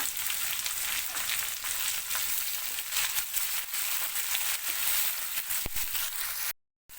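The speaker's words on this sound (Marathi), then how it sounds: "लसूण आणि कांदा लालसर झालेला आहे आपण आता टोमॅटो टाकूया" Tomatoes going into a pan of frying garlic and onion give a continuous broadband sizzle with soft stirring scrapes, ending in a brief silence, no voices.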